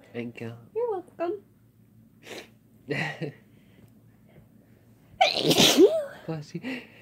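Indoors, a person lets out a loud, close sneeze partway through, after several softer short bursts, with people talking in between.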